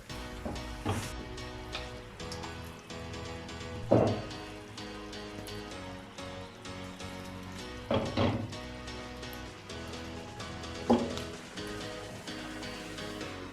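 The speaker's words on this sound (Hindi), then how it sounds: "इसमें कटे हुए बादाम डालेंगे। अच्छे तरीके से मिक्स करेंगे" Egg halwa with chopped almonds is stirred in a pan after the stove is turned off, giving soft sticky scraping and light clinking with a few louder spoon knocks spaced several seconds apart, close and quiet.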